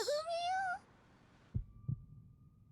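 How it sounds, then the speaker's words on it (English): Two soft, low heartbeat thumps from an anime episode of My Hero Academia's final season follow a high-pitched voiced sound, fairly faint against a quiet background. "The heartbeat."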